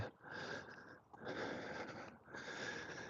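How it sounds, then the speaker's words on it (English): A person breathes heavily and audibly while climbing up inside a medieval abbey in Crépy-en-Valois, with three long, loud, rasping breaths close to the microphone, each separated by a short pause. "Sorry if you can hear me breathing"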